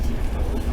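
Passenger train running between Sofia and Varna, a steady loud low rumble of wheels and carriage heard from inside, with no talking.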